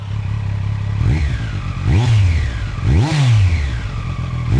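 A Triumph Street Triple motorcycle with stock exhaust, warmed up, idles roughly, then revs sharply twice in quick succession, loud and close, each burst dropping back to a rumbling idle.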